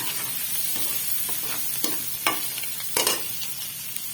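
Chicken and onions frying in a pan for desi masala pasta, a close steady sizzle with occasional sharp scrapes and knocks of a spoon stirring, and no talking.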